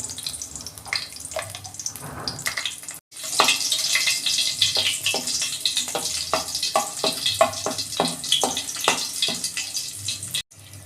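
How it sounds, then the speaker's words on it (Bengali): Slit green chillies and nigella seeds crackle in hot oil in a wok, a loud, busy sizzle with rapid pops that jumps up sharply after a brief gap and stays intense. "কড়াই আমি তেল দিচ্ছি এই যে দুটো চেরা কাঁচা লঙ্কা দিচ্ছি আর এই যে কালো জিরে দিচ্ছি"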